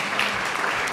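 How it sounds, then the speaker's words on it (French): Audience applause after a talk on low-carbon renovation of housing for the most deprived, a dense, steady wash of clapping filling the whole short moment. "On peut vous applaudir."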